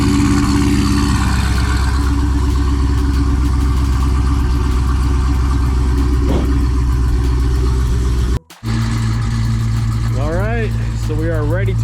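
A car with a Hellephant engine warms up at idle before being loaded onto a trailer, a deep, loud, steady throbbing rumble throughout with a brief dropout, and someone talks over it near the end.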